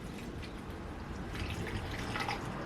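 Water runs steadily from a tap into a container for flowers, a faint, continuous splashing flow that swells slightly partway through.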